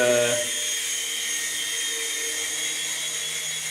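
A Jun Quan Toys F63028 Thunderbird infrared RC helicopter hovers indoors, its small rotors and motor giving a steady, close, high-pitched whine that holds evenly throughout with no talk.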